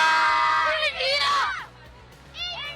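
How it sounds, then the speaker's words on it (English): Small children cheer and shout together for the Indian cricket team at a crowded Mumbai homecoming, loud rising whoops over background crowd babble, then a brief quieter lull before another short shout. "these are the small little kids who have come all the way from across Mumbai just to cheer"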